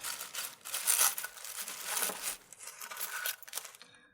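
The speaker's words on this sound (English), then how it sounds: "glue the pieces of broken glass back together with super glue" Small pieces of broken glass clink and scrape together as they are handled on a surface ahead of gluing with super glue, a close, steady run of faint crinkly rattles.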